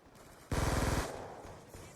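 Automatic gunfire in a Call of Duty match: a half-second rapid burst of shots, loud and close, then a fading tail and faint scattered distant shots, with no talk over it.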